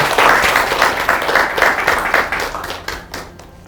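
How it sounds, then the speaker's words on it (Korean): Audience applause greets the president of Hyundai Mobis arriving at a company founding-anniversary CEO meeting; steady, dense clapping from a crowd that is loud at first, then thins into scattered claps as it fades. "박수와 큰 댓글로 환영해 주시기 바랍니다."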